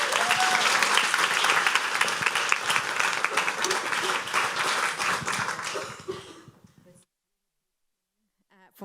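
Warm, dense applause from a lecture audience greeting a speaker at a freedom lecture, loud and sustained for about six seconds before fading to silence, with a brief voice at the very end.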